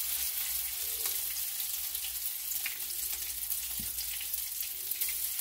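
Salmon patties fry in hot oil, giving a steady, soft sizzle that runs evenly throughout with faint clinks and stirring noises.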